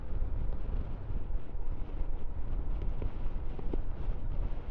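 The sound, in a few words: gusty wind while riding a Himalayan 411 motorcycle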